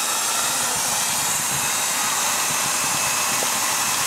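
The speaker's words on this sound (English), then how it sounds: "I don't think this company had this in mind when they made their vacuum, but yeah, it works well." A homemade do-it-yourself bee vacuum built from a household vacuum runs with a steady, loud airy whir and no breaks, with no voices over it.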